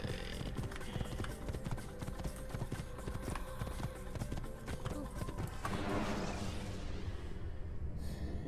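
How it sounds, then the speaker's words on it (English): A horse's hooves clip-clop steadily in the Assassin's Creed video game, a brisk even rhythm of close hoofbeats that fades out at the end, with someone talking over it. "don't get off the horse, Altair."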